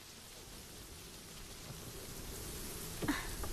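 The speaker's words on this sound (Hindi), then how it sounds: "कितनी तेज हवा चल रही है," Strong wind blows steadily at night before rain, a dense roaring hiss that grows slightly louder toward the end with a brief gust.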